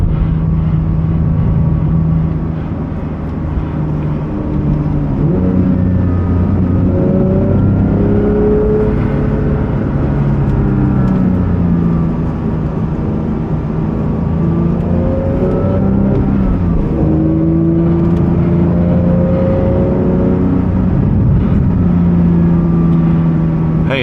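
A 2024 Porsche GT3 engine pulls hard while driving, its loud sustained note rising and falling through repeated revs and gear changes, with a steady cabin drone underneath.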